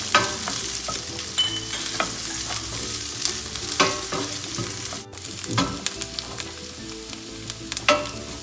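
Green chillies fry with onion in a pan over a high flame for a chilli mushroom dish, giving a close, strong sizzle punctuated by repeated sharp stirring scrapes and clacks; no voices.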